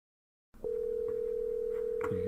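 Steady telephone dial tone on a recorded phone call, starting after a brief silence and holding loud and unbroken to the end, with a faint click partway through.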